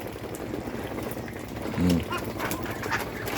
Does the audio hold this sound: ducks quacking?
yes